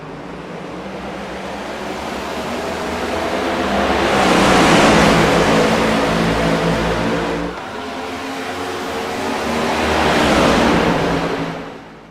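Race cars rush around the turns of a racetrack in two broad, loud swells of engine roar and rushing noise, each building and fading as the pack passes, with no voices.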